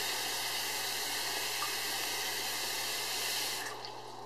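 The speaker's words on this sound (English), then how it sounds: "Okay, I'm going to turn off the water." A kitchen tap runs steadily as small airbrush parts for Xbox 360 controller buttons are rinsed under it, a close, even hiss of flowing water that thins out near the end as the flow is shut off.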